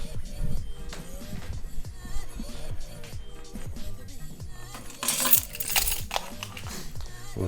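Metallic clinks and jangles like a set of keys being handled, scattered in bursts across the span with a louder rattling cluster near the end, close by and fairly loud, with no talking.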